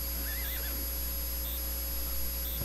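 Horses in the zoo-management video game Zoo Tycoon 2 give a short rising whinny early on, over a steady hum of game background ambience with no talk.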